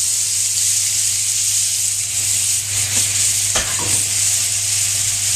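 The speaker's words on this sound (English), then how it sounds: "What I'm actually going to do is add quite a lot of butter into the pan." A generous amount of butter sizzles loudly and steadily in a hot pan for pork tenderloin, a constant bright hiss with occasional faint clinks.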